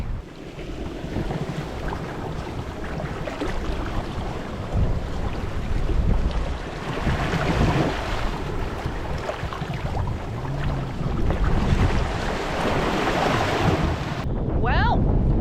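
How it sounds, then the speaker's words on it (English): Strong wind blows across a sailing boat entering the channel into Pancake Creek, Australia. It is a steady, loud broadband roar with buffeting gusts and some water wash, and no voices. "It's a beautiful but windy day."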